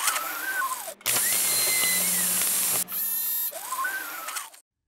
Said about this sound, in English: To do so, use a plasma cutter.